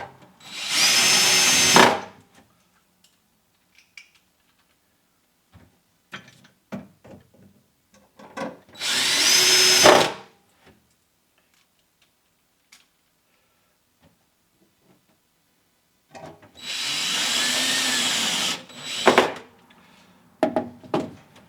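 Power drill driving self-tapping screws into the wooden firewall of a 1930s Morgan 3-Wheeler to secure the fuel tank: three loud close bursts of about two seconds each, separated by quiet clicks and handling noises.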